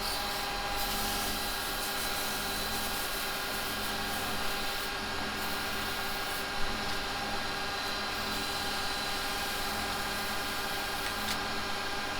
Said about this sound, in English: I want to just sand that end and put a little bit of finish on it.